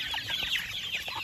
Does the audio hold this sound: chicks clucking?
yes